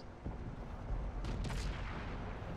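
A World of Tanks tank gun fires one heavy, booming shot over a steady low engine rumble, with a short sharp crack and rustle following just after; no talking.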